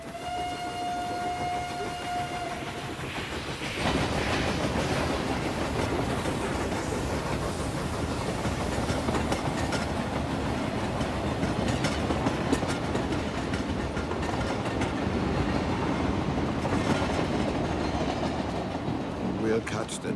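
A passenger train runs on the rails, its broadband rumble and rhythmic clickety-clack swelling from about four seconds in and staying loud and steady to the end, after a brief tonal whistle at the start.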